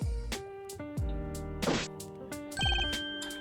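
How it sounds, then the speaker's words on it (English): A telephone rings in the Ace Attorney Investigations video game, a few bright electronic ring bursts mixed with chiming game sound effects and short musical stings, with no talking. "The moment the phone rang, I knew it was serious."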